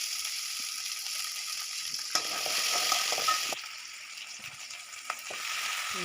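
Onion, garlic and curry leaves fry in a pan, making a continuous sizzle broken by a few scraping stirs and clinks, and the hiss quietens partway through. No one speaks.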